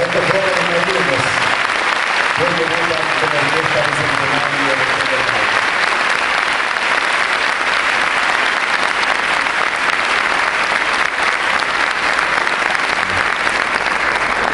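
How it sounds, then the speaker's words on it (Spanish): A large crowd applauds steadily and loudly throughout in the Teatro Regional del Maule, Chile, at a youth symphony orchestra concert, with a voice speaking over the clapping at the start. "Qué grande suena el aplauso en este Teatro Regional del Maule para estos jóvenes y amigos!"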